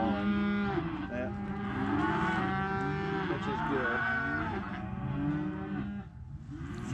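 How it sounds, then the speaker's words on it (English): Weaned calves and other cattle on a farm mooing loudly and continuously, overlapping long bellowing calls from several animals close by, with a brief spoken remark in between. "See, I think those cows are getting duet songs."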